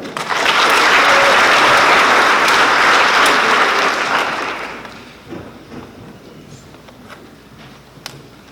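A school awards assembly audience claps loudly and steadily for about four seconds, then the applause fades out into quiet room noise with a few scattered thumps.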